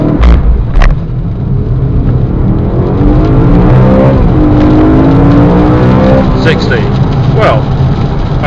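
A 2012 BMW M3 with a 4.0 V8 launches hard from a standstill in a 0 to 60 run, engine roaring loud and close with rising revs and gear shifts, road and wind noise underneath.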